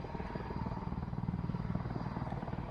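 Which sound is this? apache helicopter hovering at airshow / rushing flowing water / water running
apache helicopter hovering at airshow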